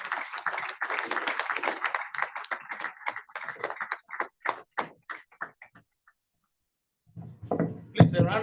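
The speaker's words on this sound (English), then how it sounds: "Please, a round of applause for this" Applause from a ceremony audience for a board chairman, dense steady clapping for about six seconds that thins into scattered claps and stops, followed by a brief burst of voices or clapping near the end.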